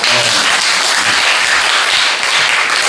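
A church congregation at a Friday worship service bursts into applause, a dense, loud, sustained wash of clapping filling the hall throughout.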